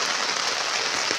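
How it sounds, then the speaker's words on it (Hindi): Heavy rain falls outdoors near a home as a dense, steady hiss of drops, loud and close, with no break and no voices over it. "तो बहुत ही ज़ोर से बारिश गिर रहे हैं।"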